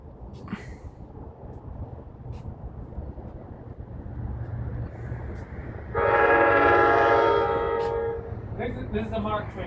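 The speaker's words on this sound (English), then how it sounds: "This is a Marc train, you know." A MARC commuter train passes Halethorpe station, a steady rumble building before a loud, sustained horn blast cuts in midway, with voices in the background.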